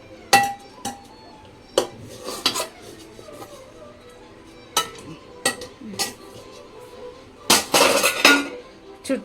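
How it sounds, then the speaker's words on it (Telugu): Rice mixed into lemon pickle in a metal pot, with a spoon knocking and scraping against the pot in irregular clinks and clatters, close and moderately loud, with no voices. "ఇప్పుడైతే దీంట్లో అన్నం వేసుకొని కలుపుకోవాలి."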